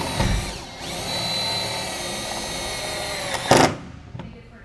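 A cordless power tool whines steadily for several seconds while driving a self-tapping screw into the plastic housing of a Custer 12V LED RV dome light. A brief louder burst follows as it stops, then quiet.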